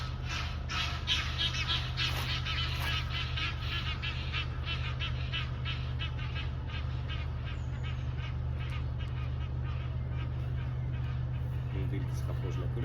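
Wild geese honk in rapid, overlapping bursts over a steady low hum, a busy flock calling continuously at moderate distance, with a person talking faintly at times.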